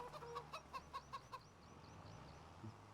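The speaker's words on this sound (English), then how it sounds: "You love the sound of chickens as well?" Chickens cluck in the farmyard of the video game Farming Simulator 25, a run of quick rhythmic clucks in the first half, then softer scattered chirps over a quiet ambient bed, fairly faint.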